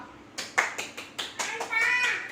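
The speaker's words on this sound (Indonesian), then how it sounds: "Tepuk tangan buat kalian semua." A school class claps hands together in a quick run of about seven or eight sharp claps, close and fairly loud, building into a brief ragged burst of applause at the end.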